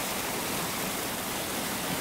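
River water rushes past during a winter tenkara fishing outing after a storm surge, a dense, even roar close by with no talk.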